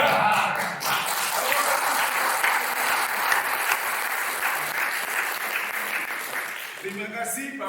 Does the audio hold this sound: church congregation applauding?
yes